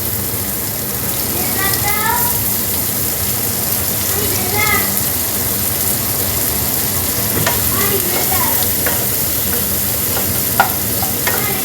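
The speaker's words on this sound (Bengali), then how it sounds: "এবার এই তেলের মধ্যে আমি দিয়ে দিলাম পেঁয়াজ।" Onions dropped into hot oil for an egg biryani fry with a strong, continuous sizzle, and a voice speaks over it now and then with a few utensil clinks near the end.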